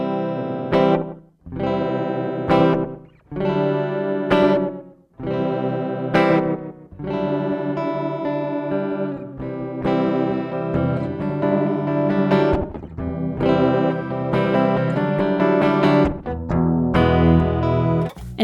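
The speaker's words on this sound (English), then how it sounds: "it's like an analog delay where the repeats are imperfect, out-of-tune replications of the fundamental signal" Electric guitar played through an EQD Rainbow Machine pitch-shifting delay pedal, detuned and wobbly, with a series of loud sustained chords and note phrases whose out-of-tune repeats and chorused shimmer smear together, briefly pausing between strums.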